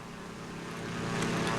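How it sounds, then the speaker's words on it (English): A propeller airplane drones overhead in the Silent Hunter III submarine game, a steady engine hum swelling gradually louder as it approaches. "You can hear the airplane coming back."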